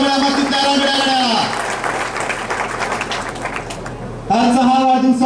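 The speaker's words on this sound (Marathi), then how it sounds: "एकदा जोरदार टाळी झाली पाहिजे" Loud applause breaks out from a crowd at a birthday ceremony and lasts about three seconds, with someone speaking over a microphone just before and right after it.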